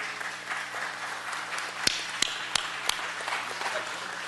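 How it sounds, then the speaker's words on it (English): A round of applause for visiting individuals at a joint city council committee meeting, a steady wash of clapping with a few sharp louder claps standing out midway. "Would you give these individuals the round of applause that they truly deserve?"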